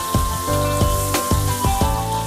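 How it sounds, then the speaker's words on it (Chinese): Mixed vegetables stir-fried in a hot pan while preparing sour-soup marbled beef: rhythmic tossing and scraping bursts about every half second over a steady sizzle, close and fairly loud, with a tonal musical bed underneath. "各色菜蔬下锅翻炒"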